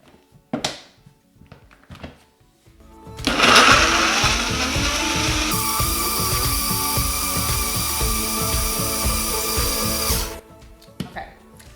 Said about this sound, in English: So let's blend it up.